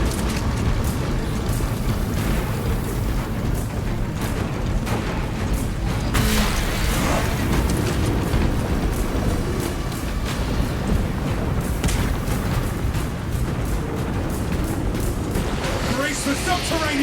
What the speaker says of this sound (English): Throwing frag grenades.